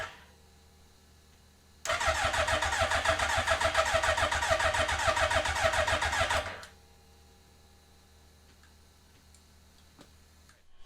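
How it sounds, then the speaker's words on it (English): Hayabusa-powered Can-Am X3 engine cranking hard with a rapid, steady mechanical rhythm for about five seconds, loud and close, then stopping without catching, while the engine is fed diesel and ether. "So it's been trying to start on diesel now for a little bit."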